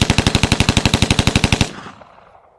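A suppressed B&T APC9K SD-2 submachine gun fires a rapid burst of roughly twenty evenly spaced, loud, close shots over about a second and a half, then a fading tail with no voices.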